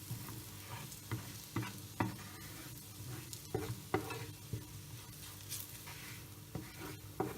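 Ground spices being stirred and mixed over low heat in a hot pan for a chicken roast, giving repeated scraping stir strokes over a steady soft sizzle, close and moderately loud, with no talking.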